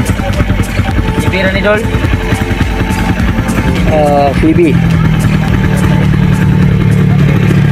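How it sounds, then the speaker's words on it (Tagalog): A big motorcycle engine at a village fiesta runs nearby with a steady mid-pitched drone the whole time, while people talk over it. "Ito, malaki ang kanilang motor, oh."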